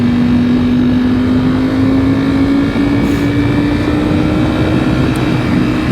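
A steady, loud Ducati V4 SP sport motorcycle engine drone while riding, with a constant pitch that rises slightly, plus rushing wind noise, sustained throughout without a break.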